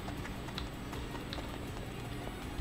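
Arrow keys tapped on a computer keyboard while playing One Piece Pirate Warriors 4: quick, light, close clicks in an irregular, fairly rapid patter over a quiet background, with no talk.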